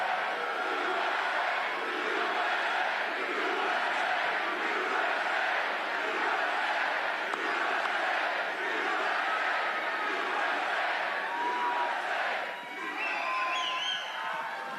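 Campaign rally crowd in Erie, Pennsylvania cheering and shouting continuously, a broad sustained roar of many voices with whoops rising over it, heard at a distance as a dense wash.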